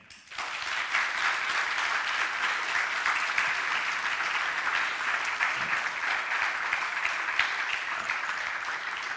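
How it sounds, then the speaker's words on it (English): Sustained, even applause from a conference audience honoring a panel at a transatlantic alliance event, a thick wash of many clapping hands starting abruptly and continuing strongly for about nine seconds. "a round of applause for our panel again"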